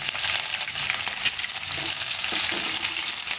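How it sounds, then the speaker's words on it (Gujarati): Cumin seeds, chillies and curry leaves crackle in hot oil, giving a continuous close sizzle with faint spattering pops and no voices. "અને તેલ આપણું ગરમ થઈ ગયું છે. તો એમાં પહેલાં જીરું નાખીશું અને મરચાં અને લીમડાના પાન."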